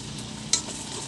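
Dulsoy sizzles while frying in a pan as an aromatic for mixed vegetables cooked in coconut milk, giving a steady close-up frying hiss with one sharp metallic clink of stirring partway through.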